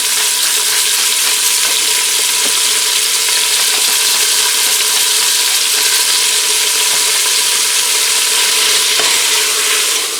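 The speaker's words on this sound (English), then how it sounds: "I'm going to get this in here and get this browned up quick" Chuck roast chunks browning in a pressure cooker with salt and pepper, a loud steady sizzle and crackle of frying meat that holds evenly throughout, with faint scrapes of stirring.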